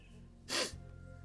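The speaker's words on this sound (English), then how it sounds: "I turn to sneeze away from the microphone." A single sneeze, a sudden breathy burst slightly off to the side, over a low steady hum.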